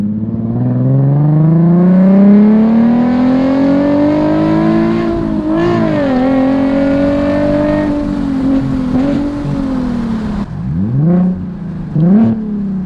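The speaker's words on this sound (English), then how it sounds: "Second gear pull." A Nissan 370Z Nismo fitted with a Tomei titanium exhaust pulls hard through second gear, a loud rising engine note that climbs steadily, then drops and blips with short revs near the end.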